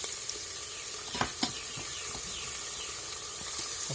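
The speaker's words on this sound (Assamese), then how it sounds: "এতিয়া আমি আদা নহৰু পেষ্টটো দি দিম ইয়াতে" Ginger-garlic paste frying with half-cooked onions in a pan for Assamese-style chicken biryani, a soft continuous sizzle with occasional sharper crackles and spatters, fairly quiet and steady with no talking.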